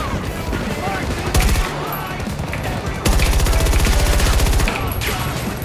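Dense automatic gunfire and rapid-fire bursts in a full-scale Conquest battle in Battlefield 2042, loud and continuous, with heavier sustained volleys near the middle and a voice talking briefly over the combat.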